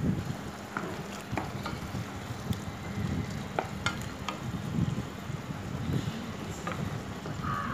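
Prawns frying in a pan are stirred, giving a low steady sizzle with scattered scraping and clicking of a utensil against the pan, close and moderately quiet.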